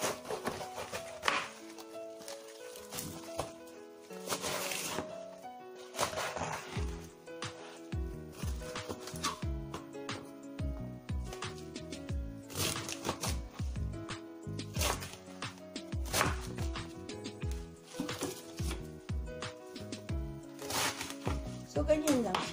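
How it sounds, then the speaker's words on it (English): A knife cuts Chinese cabbage into bite-size pieces for keto kimchi, with repeated crisp chops and crunches against a board, irregular in rhythm and close, mixed with a voice talking at times. "So, I'm gonna cut them in the bite size."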